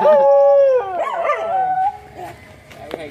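A dog lets out a loud, close, long drawn-out howl that wavers in pitch before trailing off into softer whines, with faint voices in the background.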